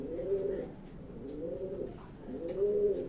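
Racing pigeons in a loft give soft, low cooing calls, three drawn-out rolling coos in a regular rhythm, close by and fairly quiet.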